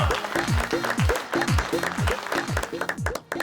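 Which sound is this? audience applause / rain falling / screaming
audience applause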